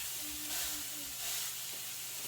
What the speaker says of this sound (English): So you start out just getting your sausage cooked.